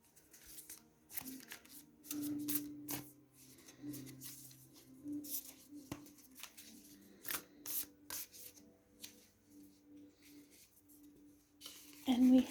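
Animal spirit oracle cards being shuffled and drawn, with soft rubbing, sliding and papery flicks, quiet and close with scattered taps, and a brief louder rustle at the very end.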